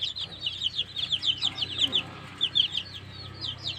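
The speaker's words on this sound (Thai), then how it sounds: "มันเป็นไก่แจ้ ขาวหางดำ" White black-tailed bantam chickens clucking in rapid, overlapping bursts, fairly close, with a low steady hum underneath and no talking.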